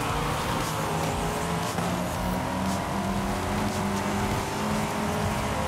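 Race cars in the Forza Horizon video game, including an Audi R8 and a Corvette Stingray, produce a continuous loud engine drone with steady tonal whine and road roar throughout.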